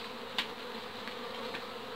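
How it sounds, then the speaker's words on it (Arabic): Honeybees emerge from a brood frame while a hive is being split, making a continuous close buzzing drone with slight swells in loudness and no voices. "هاو النحل هنا يخرج."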